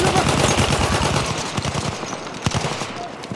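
Rapid machine gun fire in Battlefield 1, a dense, loud, continuous rattle of shots that thins out toward the end into a few scattered bursts.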